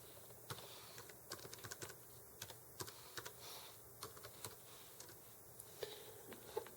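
One-handed typing on a computer keyboard while setting up a CentOS web server, heard as a sparse, irregular run of light key clicks, fairly faint and close, with no talking.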